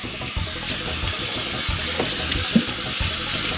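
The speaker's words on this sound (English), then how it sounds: "we're gonna give this one more rinse down." Tap water runs onto an insulated food-delivery bag during a rinse, a steady close splashing gush with small irregular spatters and drips, with no one speaking.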